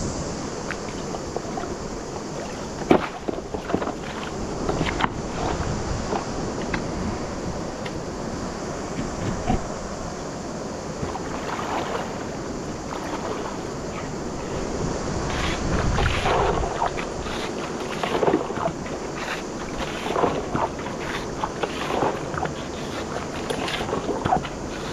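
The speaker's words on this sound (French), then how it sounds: "je vais commencer par pomper un seau de la surface qu'il y a là" A water pump runs at a river, filling a bucket with water drawn from the surface, producing a steady, continuous motor drone with some wind noise and occasional knocks throughout.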